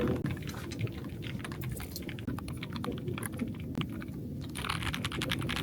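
A 75% low-profile mechanical keyboard with linear switches is typed on at an office desk, giving rapid soft clacking keystrokes close up, fairly steady throughout.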